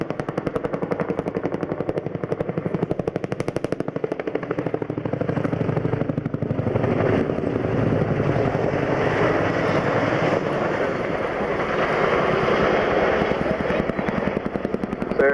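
A military helicopter swinging round hard at the Yeovilton navy airshow, its rotor beating in a fast, heavy chop and engine drone that stays loud and continuous throughout, with no talk.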